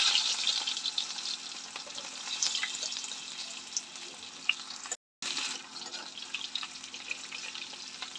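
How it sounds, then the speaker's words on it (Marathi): Potato pieces fry in hot mustard oil, a dense, continuous sizzle and crackle at close range, steady throughout apart from one brief dropout near the end. "बटाटे आपल्याला चांगले सोनेरी होईपर्यंत फ्राय करून घ्यायचे."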